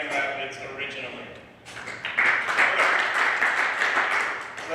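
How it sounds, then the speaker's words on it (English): Comedy show audience applauding and cheering, a swell of clapping that rises sharply midway and stays loud and sustained to the end. "Round of applause if you're not from Grand Rapids originally."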